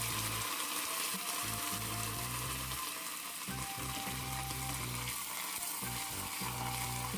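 Curry leaves dropped into hot oil for a Kerala sadya beetroot pachadi, giving a dense, loud and unbroken sizzle that crackles close by for several seconds, with no talking.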